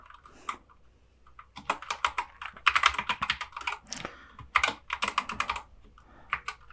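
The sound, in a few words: typing on a computer keyboard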